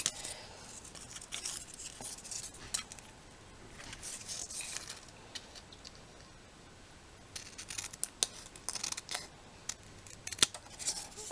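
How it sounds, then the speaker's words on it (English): Scissors snip through paper while a heart rosette is being made, giving short crisp cuts in irregular bursts with quiet pauses between, close and fairly soft, with no talking. "So I'm going to cut off one of the ends."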